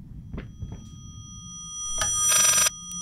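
An old-fashioned telephone bell rings briefly in the horror video game Layers of Fear, following a couple of soft thunks like a cupboard door, in a quiet room.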